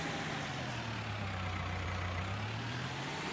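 A four-wheel-drive tractor engine in Farming Simulator 22 drones steadily with a deep, heavy low rumble, close and constant, with no talk.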